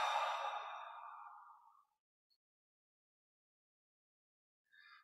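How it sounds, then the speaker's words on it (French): A single long breath exhaled out through the mouth during a guided Yogoda energy-recharge exercise, soft and close, fading over about two seconds into silence, with a faint brief sound near the end. "on expire par la bouche"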